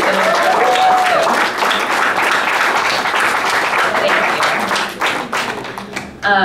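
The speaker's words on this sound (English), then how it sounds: "Let's give them a round of applause too." Loud, dense applause from an audience at an activist event against militarism, steady for several seconds and then tapering off near the end.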